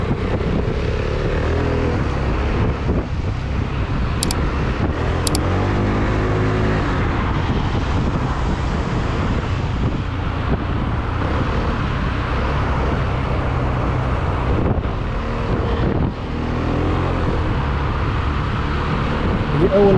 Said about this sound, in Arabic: اول مره غادي نطيحو في لوتوروت خاويه، هكذا نقدروا نجربوا الموتور ديالنا على خاطرنا